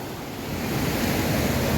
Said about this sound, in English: the water coming down, as you probably can hear it on the video as well